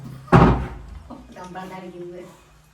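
A door is slammed shut once with a loud, heavy bang. The impact fades quickly, and a person starts talking right after it.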